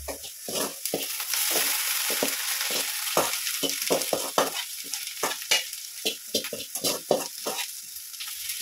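Okra sizzles and crackles in a hot pan while being stirred and fried, with a steady frying hiss broken by repeated scraping stirs and soft clatter, close and fairly loud.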